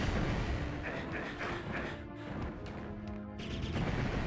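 Time bomb explosions going off in the video game Heretic, a dense run of low, rumbling booms and crashes at moderate distance with no pauses between blasts.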